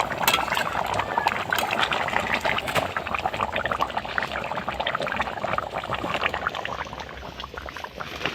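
Chicken curry pours from a pan in a steady, thick, liquid rush that runs unbroken and fairly close, with no voices.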